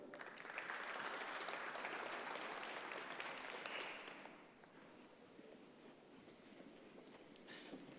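Applause for a guest named Flavio at a CAF Champions League and Confederation Cup quarter-finals event, a loud, full burst of clapping that fades after about four seconds into faint scattered claps and room noise.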